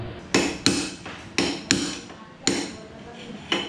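Sharp metallic hammer strikes ring out one after another at an uneven pace, tapping a steel drift up close to knock out a steering bearing race on a Suzuki Raider 150 Fi motorcycle.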